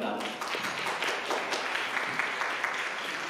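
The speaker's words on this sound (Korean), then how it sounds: "박수로 맞이해주시기 바랍니다" An audience at a press event for a TV drama applauds to welcome the director. The clapping is steady and moderately loud throughout, with some voices audible underneath.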